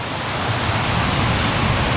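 Surf on the Gulf waters between Pensacola Beach and Navarre Beach, a loud, steady rushing wash of breaking waves mixed with wind noise, close by and continuous.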